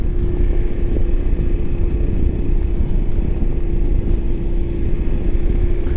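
Voge DS900X motorcycle cruises steadily at about 50 under cruise control, a constant loud engine drone mixed with wind rumble, unbroken throughout with no talk.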